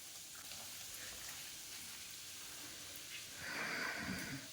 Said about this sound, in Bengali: এই তো সবজিটা এখন ভেজে নিচ্ছি